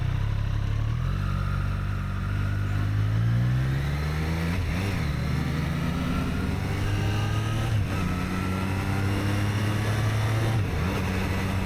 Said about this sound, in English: Now the scooter zoom past me in a second.